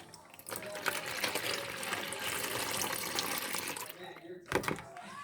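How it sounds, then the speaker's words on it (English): Liquid from boiled sorrel is poured through a strainer, a close splashing, gurgling pour lasting several seconds before it tapers off, with a brief clunk near the end. "I'm just gonna take this, pour it in here, the strainer."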